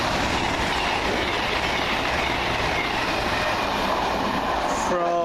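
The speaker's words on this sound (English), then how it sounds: "Next train up, 1 Victor 61." A train passes at speed on a railway line, a loud, steady roar of wheels and rushing air filling the whole stretch, with a horn-like tone rising near the end.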